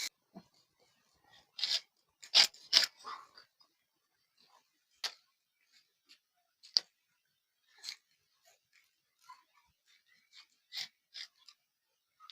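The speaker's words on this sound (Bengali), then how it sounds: "এবার বন্ধুরা, আমি ফুলকপিটা কেটে নেব।" A knife cuts through a raw cauliflower, giving quiet, crisp snapping crunches in irregular clusters separated by near silence.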